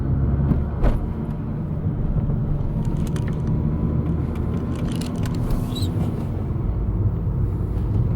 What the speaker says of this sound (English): I'm holding high RPM on purpose.